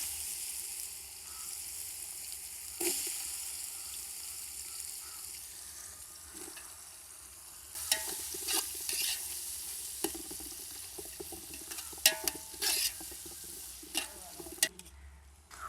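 Ginger garlic paste and onion sizzle and fry in a hot pan for a snakehead fish biryani, with scraping stirs and a few sharper clinks later on, close and steady with no talk.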